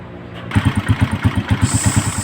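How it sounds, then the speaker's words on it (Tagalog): A motorcycle engine with a repaired light coil line idles close and loud, with a steady, fast, throbbing beat after a brief quieter start, no talking. "so bali umaandar na po itong motor"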